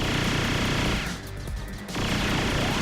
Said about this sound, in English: Bullets booming on you.